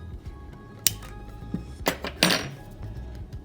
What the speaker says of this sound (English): Just push them through the screen of your sieve